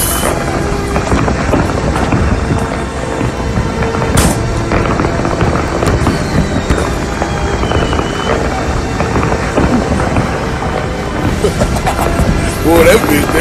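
New Year's fireworks display exploding nearby, a continuous dense barrage of pops and booms with wind buffeting the mic and people talking over the din.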